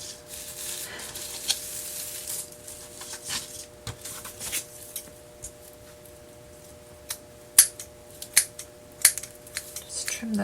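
Scissors snipping yarn ends for wooden sweater-style pumpkins, a run of crisp close cuts, sparse at first and then several quick snips near the end, over quiet room hiss.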